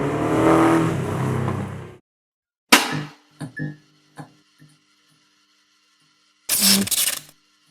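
A 1998 Volkswagen Beetle running a 2.5 litre Subaru engine with a bespoke gearbox and wiring loom gives a loud two-second roar that cuts off, followed by scattered clinks and knocks and a final short burst of noise.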